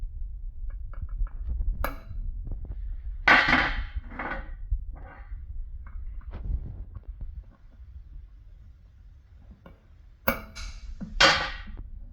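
Scattered metallic taps and clinks from a hammer driving a bearing race on a Bombardier, some sharp and close, ring out at irregular intervals over a low steady hum, with quiet gaps between strikes.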